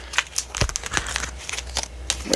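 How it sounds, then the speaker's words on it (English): Tarot cards given a slight shuffle by hand, a close, crisp run of papery riffles and soft slaps with no talking. "Just kind of do a slight shuffle here"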